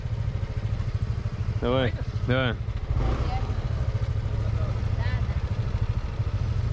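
A motorcycle engine runs steadily throughout a ride in Vietnam, a constant low rumble with brief spoken exchanges over it.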